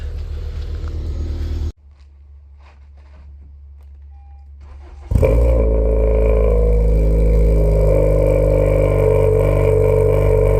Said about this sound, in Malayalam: വണ്ടി ഓൾമോസ്റ്റ് വാം-അപ്പ് ആയിട്ടുണ്ട്.